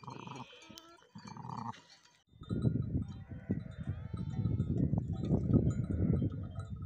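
Sheep and lambs bleating at a farm arbour in the morning, with a few distinct nearby bleats at first, followed by a denser, continuous flock chorus.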